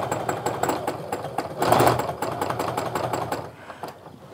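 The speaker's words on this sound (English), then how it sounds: "have to listen that the sewing machine is moving at an even pace" Sewing machine running steadily during free-motion quilting of a star meander design, a fast even mechanical chatter of the needle that swells briefly in speed and volume midway, then eases and fades near the end.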